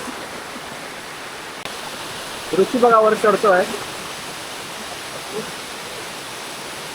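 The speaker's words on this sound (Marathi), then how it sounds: "आता तर पाणी कसं वाहतंय" Water rushes steadily at a forest waterfall spot in the Konkan jungle, a constant broad roar through the whole clip, with people talking briefly over it in the middle.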